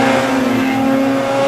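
A turbocharged 146 snowmobile engine revs hard while popping a wheelie, a loud close sustained high-pitched whine with steady pitch through the short burst, no talk.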